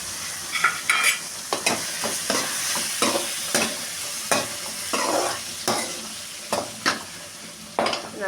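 Ripe tomatoes sizzle and fry in a pan for yam curry, with a spoon stirring and scraping through them in repeated close strokes over a steady frying hiss.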